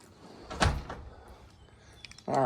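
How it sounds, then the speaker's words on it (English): A back door is opened with a sudden dull thump and rattle, followed by quieter shuffling and a rising rush of outdoor noise at the end. "take a peek out the back door."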